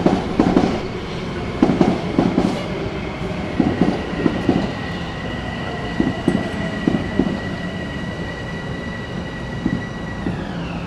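A train rolls past on rails with rhythmic clickety-clack of wheels over joints and a faint high squeal, loud and steady for about ten seconds with no voices.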